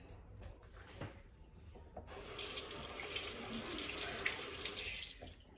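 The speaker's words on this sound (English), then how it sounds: "So I rinse my hands off." A kitchen tap is switched on and hands are rinsed under the running water, a quiet bright rushing stream following a few soft knocks and handling sounds.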